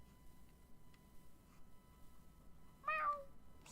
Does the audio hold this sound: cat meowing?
yes